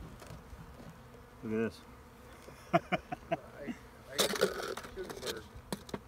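Honeybees fly home to their hives late in the afternoon at an apiary in North Seattle, their buzzing passing close in brief swells around a nearby voice.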